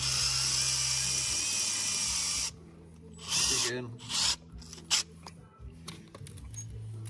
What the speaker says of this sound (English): we had to pre-drill under the gasket and then add a Tapcon screw into the concrete